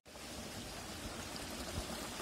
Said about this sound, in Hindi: यहाँ पर पानी आता ऊपर वाले झरने का